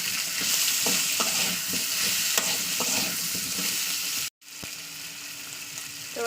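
Live lata (snakehead) fish frying in hot oil, a steady loud sizzle with crackling pops that cuts out for a moment near the end before resuming.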